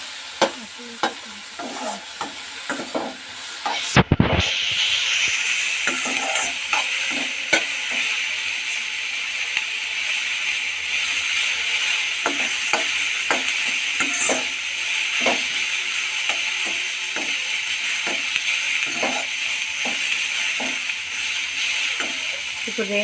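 Vegetable pasta fries in a pan over a low flame, a soft continuous sizzle broken by frequent sharp scrapes and clinks of a spoon stirring, with one loud knock near the start.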